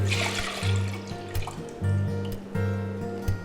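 Whole milk and heavy cream pour into a pot, a close, gurgling liquid stream that glugs in short rhythmic pulses.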